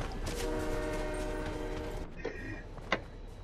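A train in the Fortnite video game rumbles past loudly with a sustained horn blast, then cuts off abruptly, leaving quieter scattered clanks and a sharp knock near the end; nobody talks.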